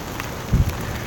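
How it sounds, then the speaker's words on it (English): Heavy rain falls steadily in a broad hiss, with a brief louder thump midway through and no speech. "So it's raining really hard now"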